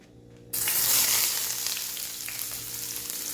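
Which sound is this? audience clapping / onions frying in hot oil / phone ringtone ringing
onions frying in hot oil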